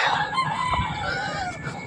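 A rooster crows once, close and clear, a drawn-out cock-a-doodle-doo in the open outdoors with no talk over it.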